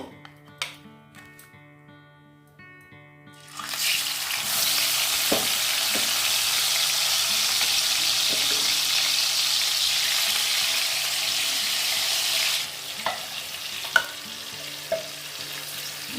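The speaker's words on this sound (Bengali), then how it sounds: "এবার এক একটা করে পিস আমি প্রথমে তেলের মধ্যে দেব।" Marinated chicken pieces are added to hot oil for biryani, setting off a loud, steady frying sizzle that starts after a few seconds of quiet and carries on evenly, with a few faint clinks near the end.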